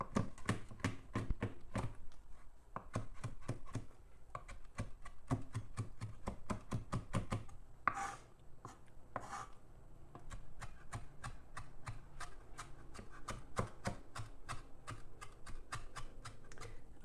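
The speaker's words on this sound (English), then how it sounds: "All right, got my herbs nicely chopped up." Fresh herbs and parsley chopped with a knife on a cutting board for tomato salsa, a steady run of sharp, close taps in quick rhythm with a few brief pauses throughout.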